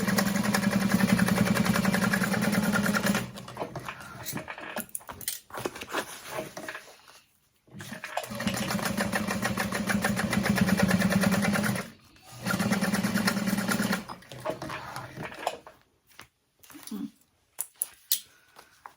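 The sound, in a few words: sewing machine top stitching a seam on a bag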